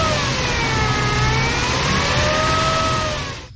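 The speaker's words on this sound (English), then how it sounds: "Let me rev it up and you guys can hear." Engine of a 2006 Toyota Tundra with a 4.0 V6, revved steadily with its pitch sweeping up and down, loud and close, plus a whine tied to the alternator, alone with no voices.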